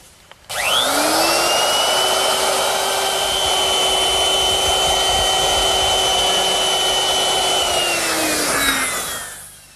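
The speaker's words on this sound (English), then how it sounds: "I'm going to use my router. And I've set it up with a 1/4 inch rounding over bit." A router fitted with a quarter-inch round-over bit spins up and runs a long, steady, loud whine while easing the edge of a wooden rail for a Shaker wall clock, then winds down at the end.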